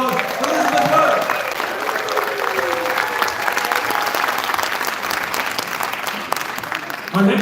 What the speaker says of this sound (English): Let's give her a big round of applause for Elizabeth Wood.